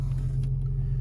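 An Infiniti G35 car drives with a low, steady engine rumble heard from inside, brief and even with no talk.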